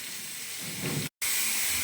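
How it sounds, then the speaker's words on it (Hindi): Whole spices and cardamom roast in hot oil with a steady, loud sizzling hiss that cuts out for a moment and then resumes. "इसे इतनी देर भुनेंगे कि ऑयल के अंदर कि खुशबू आनी इनकी स्टार्ट हो जाए।"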